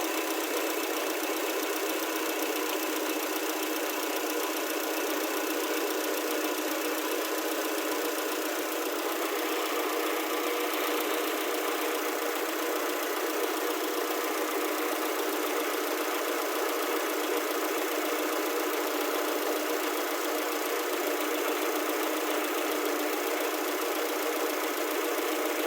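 A Renault Clio 3 engine runs at a steady idle while its coolant is changed and bled, giving a constant, even mechanical hum with a faint knocking texture and no talk.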